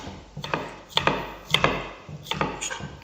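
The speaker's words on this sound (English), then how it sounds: "that's our onion chop" A kitchen knife chops onion on a wooden board for onion gravy, a run of firm knocking chops in small irregular clusters, close and distinct with no talking.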